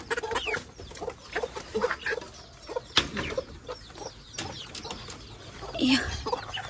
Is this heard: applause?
no